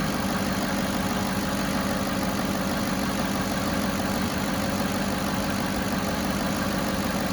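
A 2007 Cadillac DTS engine idles steadily, a continuous even drone with a low rumble and a faint high whine throughout, no talking.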